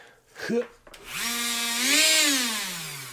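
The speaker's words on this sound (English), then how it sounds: "we need to use a felt wheel for doing windshields" A drill spins up a felt polishing wheel against a car windshield, a short whir rising in pitch and holding close and loud, preceded by a brief spoken word.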